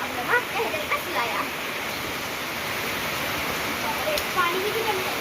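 Heavy monsoon rain pours down in a dense, continuous roar near a parked car, with voices speaking intermittently over it.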